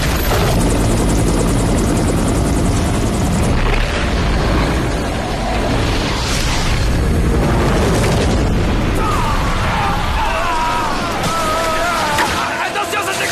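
A helicopter hovers close overhead during a mountain avalanche rescue in an action film. Its loud, continuous rotor roar is mixed with deep booms and bursts of rumbling.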